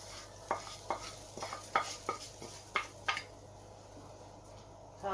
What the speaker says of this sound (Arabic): دابا منين مرقت غادي نزيد الرز. غادي يبقى يتشتش لحقاش شي